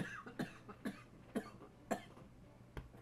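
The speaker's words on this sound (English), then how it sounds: "I was trying not to cough" Several short, dry coughs spaced about half a second apart, fairly quiet and close, followed by one last brief cough after a pause.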